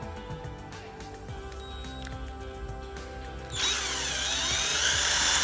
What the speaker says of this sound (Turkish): O yüzden şuraya bir delik deleceğiz.